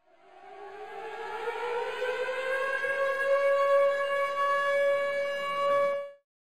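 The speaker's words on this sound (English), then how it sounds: "I added a siren. And the siren plays through the entire beat." A siren effect from a hip-hop beat swells up from near silence and holds a long, rising wail for several seconds before cutting off sharply, playing alone.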